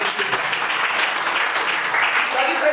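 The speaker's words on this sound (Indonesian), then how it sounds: "Kita beri tepuk tangan dulu." A church congregation breaks into applause, a dense patter of many hands clapping steadily at close range, with some voices mixed in.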